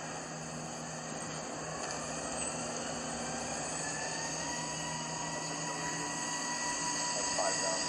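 Mazak Nexus 410 vertical machining center with a 30-tool changer, its spindle running up through 2,000 RPM as a steady, continuous whine and hum over a constant mechanical drone, fairly quiet and even throughout.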